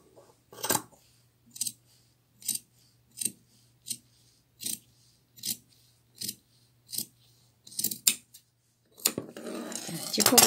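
Scissors snip through T-shirt fabric in about a dozen crisp, evenly spaced cuts close to the mic, each a sharp metallic crunch separated by quiet, with a low steady hum beneath and a burst of rustling at the end.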